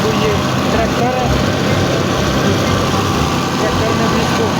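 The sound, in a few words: tractor engine idling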